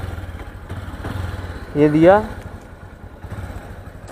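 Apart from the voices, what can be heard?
motorcycle engine starting and idling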